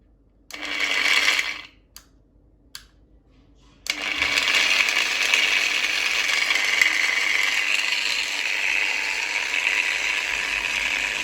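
A Bosch GWS 060 or Orion HG-954V variable-speed angle grinder whines briefly, cuts off, gives a couple of sharp switch clicks in near silence, then spins back up to a loud, steady, continuous high-pitched motor whine.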